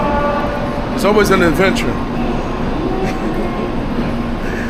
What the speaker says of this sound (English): There's something about riding around the Japanese train system.